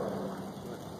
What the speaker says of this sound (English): that's the raindrops hitting it